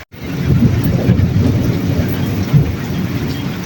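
Steady rain pours on a mud house in a Punjab village, with low rumbling thunder rolling underneath, loud and close, with no voices.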